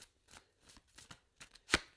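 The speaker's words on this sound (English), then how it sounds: "So I'm going to be shuffling here for a little bit." Tarot cards shuffled by hand in a series of soft riffling bursts, ending in a sharper, louder snap of the deck, close and alone with no talk.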